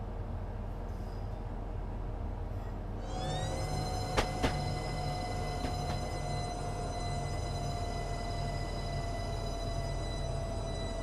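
Train running in Train Simulator on the high-speed line at Faversham: a low steady rumble, then a bright sustained tone with clear harmonics rises at about three seconds and holds, with a few short clicks and no talk.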